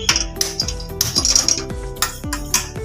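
A metal kadhai scrapes and clanks on a gas stove, making a series of sharp, close metallic knocks and rattles spaced irregularly, each ringing briefly.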